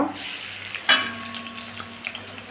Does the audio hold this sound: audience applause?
no